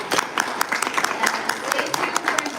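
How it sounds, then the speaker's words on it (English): Audience applause after a panel discussion on Yieldmax dividend investing, a dense steady patter of many hands clapping with sharp individual claps standing out, fairly close and sustained throughout. "let's give a round of applause"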